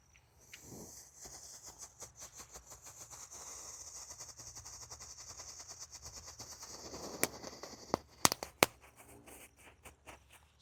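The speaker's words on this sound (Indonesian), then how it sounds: "Lanjut di sini ada mercon disco happy flower yang pratek guys." A small disco happy flower firecracker burning, a rapid fizzing crackle pulsing for several seconds, then a few sharp loud pops near the end, heard outdoors among faint insect chirps.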